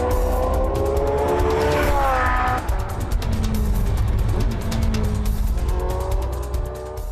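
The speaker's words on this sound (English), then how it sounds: "Catch the Porsche 918 Spyder if you can." A Porsche 918 Spyder driving fast: a loud, close engine whose pitch climbs through the gears, drops, then revs up again, with faint tyre noise.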